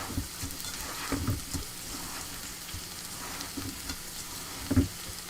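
Onions frying and browning in a pan. A steady, faint sizzle runs throughout, broken by a few soft clatters of stirring, with no talking.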